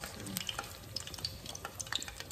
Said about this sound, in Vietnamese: Đây bây giờ nó sôi rồi Lan hớt bọt nha.